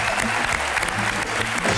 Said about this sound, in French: Merci d'applaudir Jennifer Loret.